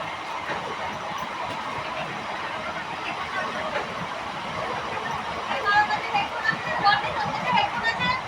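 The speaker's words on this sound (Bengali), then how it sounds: "আমার ট্রেনের আওয়াজ আর ট্রেন চলার মানে এই রাত্রিবেলা অন্ধকারে ভীষণ সুন্দর লাগছে" A passenger train running through the dark at night, a steady broadband rumble and rushing roar with faint clatter and occasional squeaks, heard from on board at moderate level, with no talk.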